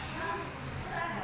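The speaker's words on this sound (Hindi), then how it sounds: "इसको हमने छोड़ दिया स्प्रे करके।" Hair spray mists continuously over freshly styled hair, a steady close hiss lasting the whole short moment without a break.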